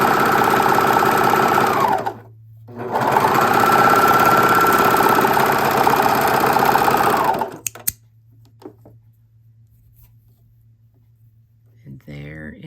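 A sewing machine runs steadily while stitching a rolled hem on thin chiffon, a loud continuous whir with one short pause, then stopping to near silence with a faint hum and a brief rustle at the end.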